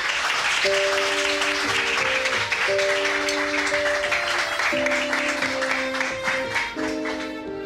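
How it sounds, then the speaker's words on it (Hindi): Loud, sustained applause from a crowd at a gathering where the boss arrives, with clapping filling the whole stretch under a layer of background music. "तालियां हो जाए।"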